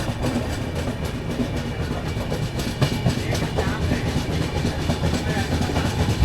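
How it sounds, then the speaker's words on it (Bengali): Passenger train rolling along after pulling out of Koderma Junction in Jharkhand on a Jaipur to Sealdah journey, a steady rumble with faint rhythmic clatter heard from inside the carriage. "তো ছেড়ে দিল আমাদের ট্রেনটি কোডারমা জংশন রেলওয়ে স্টেশন থেকে।"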